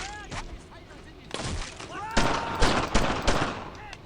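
Bursts of rapid gunfire in the World War II shooter Brothers in Arms: Earned in Blood, with repeated close loud volleys and scattered single shots mixed with shouting voices.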